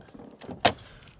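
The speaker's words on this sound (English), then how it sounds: "if you open the door, you can then open the fuel flap like so" The fuel flap on a 2019 Ford Transit Custom 2.0 EcoBlue van is opened, giving a short soft click followed by a sharp, near plastic snap.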